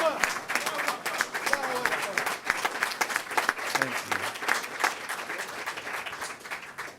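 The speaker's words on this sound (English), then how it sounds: "Let us give Sister Shirley a wonderful round of applause" Audience applause at a religious gathering honoring a minister's wife, steady clapping filling the room with speech-like voices and cheers mixed in throughout.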